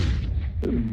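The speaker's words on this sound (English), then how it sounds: "Deploying flashbang" A flashbang detonates in a competitive video game, a single short muffled boom with a brief ringing tail near the end of a low rumbling background.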